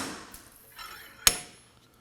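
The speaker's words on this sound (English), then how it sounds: "use a slide hammer, and we're gonna be pulling on the hub away from the knuckle" A slide hammer pulls a Kia Sorento rear wheel hub from its knuckle, giving one sharp, loud metallic clang after quiet shuffling, then a short ringing decay.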